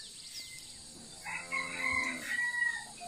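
A rooster crows loudly nearby in a long drawn-out call, with faint clucking around it.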